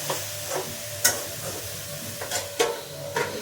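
Vegetables with turmeric, cumin and coriander powder stirred in a pan, a spatula scraping the pan in a few separate strokes over a low, steady sizzle.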